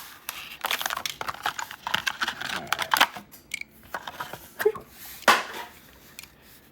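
A Hot Wheels blister package being cut open: close, crisp plastic snips and crinkling crackles in irregular bursts, with quiet pauses in between.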